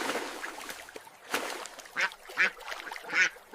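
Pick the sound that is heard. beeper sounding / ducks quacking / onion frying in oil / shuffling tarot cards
ducks quacking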